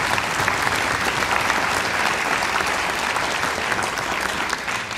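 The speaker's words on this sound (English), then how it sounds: "Yes, you may applaud." Dense, steady applause from a theater audience at a symphony orchestra concert, a continuous wash of many hands clapping close and loud for the full stretch, with no talk over it.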